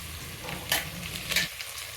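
Mutton fries in a pan as thick homemade yogurt is added, a steady close sizzle with a couple of brief bursts of spatter, and no talking.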